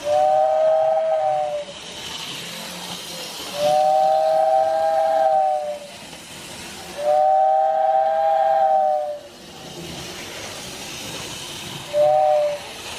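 A steam-train whistle accessory on an HO scale model railroad gives four hissing whistle blasts in a regular rhythm, the last one short, with quiet steam hiss between them.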